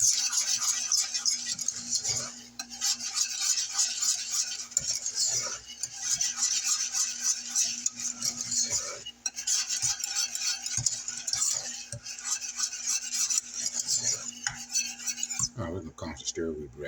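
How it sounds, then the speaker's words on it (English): Blueberry bread pudding mixture stirred steadily in a pot, with a continuous scraping and clinking of the utensil that lasts throughout, close and moderately quiet. A brief clatter comes near the end, and no one speaks. "We're going to constantly stir."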